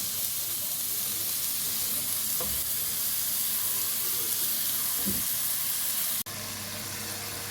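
Meat sautés in a pan as the base for an Egyptian green okra stew, a loud, steady sizzling hiss with a couple of brief stirring scrapes and a sudden drop in level near the end.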